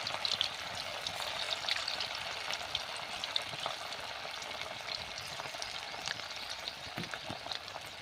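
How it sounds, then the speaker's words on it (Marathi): Vegetable manchurian balls fry in hot oil, giving a steady, close bubbling sizzle with crackling pops that runs through the whole stretch, with no voices. "आता आपलं तेल चांगलं गरम झालेलं आहे, टाकून घेऊया आपण. एकाच वेळेस जेवढे बसतील आपण तेवढे बॉल्स यामध्ये टाकणार आहोत."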